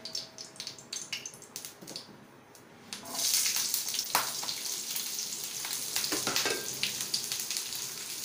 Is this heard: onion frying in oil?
yes